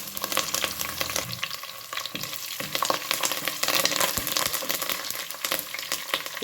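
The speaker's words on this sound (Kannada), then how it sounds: "ಹಾಗೆಯೇ ಕರಿಬೇವಿನ ಎಲೆಯನ್ನು ಹಾಕ್ಕೊಳ್ತಾ ಇದ್ದೇನೆ." Urad dal and curry leaves fry in hot oil with a busy, close sizzle and rapid crackling pops that keep going throughout, without any talking.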